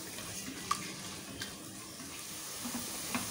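One medium chopped onion fries in a pan, with a soft, faint, steady sizzle and a few light taps from stirring.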